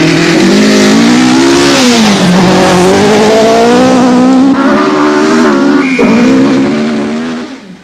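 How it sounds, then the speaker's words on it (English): Ari Vatanen's rally car scrabbles off the start line at Bramham Park, North Yorkshire, during the 1977 Lombard RAC Rally, a loud, close engine revving hard through rising and falling gear pitches with tyre scrabble, fading away at the end. "Vatanen scrabbles off the line at Bramham Park in North Yorkshire."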